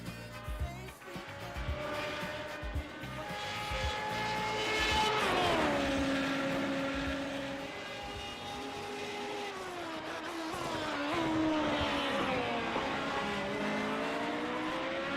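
Kamel GT racing cars in the iRacing game roar and whine past at Charlotte Roval, pitch rising and falling as they go by, continuous and fairly loud with a faint voice underneath.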